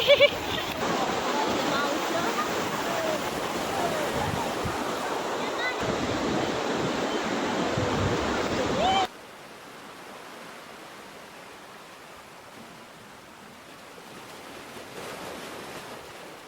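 Sea waves wash in at Digha beach as people bathe, a loud broadband surf roar that drops abruptly to a quieter steady wash partway through.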